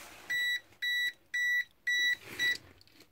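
Venlab VM600M multimeter in voltage detector mode, used to detect live wires, gives five sharp, evenly spaced electronic beeps, each roughly a quarter second long. The tone is high, loud and close, with silence between beeps.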